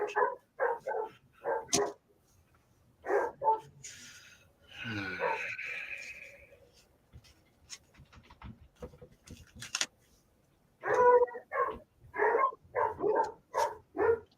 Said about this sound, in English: Oh, the doggies are not happy tonight.